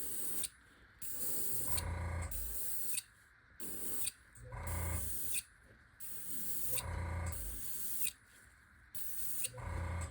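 An airbrush sprays pearl lime paint onto a fishing lure in repeated bursts, a close hiss broken by short pauses with faint mechanical clicks in between, and no one speaking.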